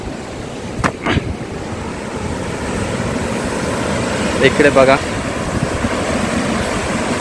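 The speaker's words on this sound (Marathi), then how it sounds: "धबधब्याचा आवाज भरपूर जास्त आहे, पाण्याचा आवाज" Steady, dense roar of the Saitwade waterfall, a year-round Konkan cascade heard from above, filling the background while people talk close by.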